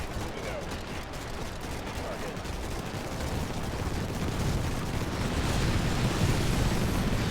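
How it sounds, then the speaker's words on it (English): Airstrike explosions in the video game Infested Planet, a dense rumbling wash of blasts that swells steadily louder across the clip, with no clear gaps between impacts. "let's launch an airstrike"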